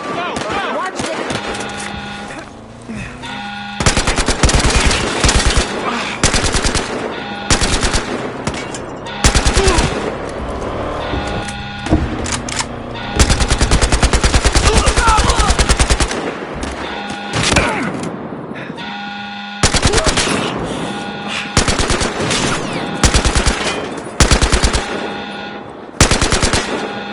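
Heavy automatic gunfire from the Battlefield Hardline video game, bursts of machine-gun fire and shots rattling loudly in long runs across the whole stretch, with voices mixed in among the shooting.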